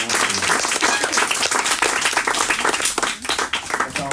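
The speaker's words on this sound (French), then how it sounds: "Et au préalable, on va peut-être vous applaudir" An audience at a bookshop author event with Kamel Daoud applauds, a dense, close burst of many hands clapping that continues steadily for several seconds with a brief dip near the end.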